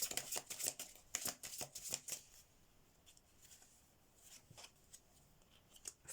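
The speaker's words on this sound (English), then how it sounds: "I'll pull another 5 out from the Andromeda Silent Heart deck." Tarot cards from the Andromeda Silent Heart deck being shuffled and drawn, a quick run of crisp riffling flicks up close that thins out into a few softer, scattered card slides.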